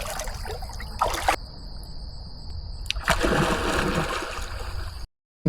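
River water trickles and splashes at a swimming hole, a steady close burble with brief louder splashes and no talking, cutting off abruptly near the end.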